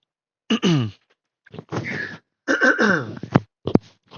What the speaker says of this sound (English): I got a stupid little cough here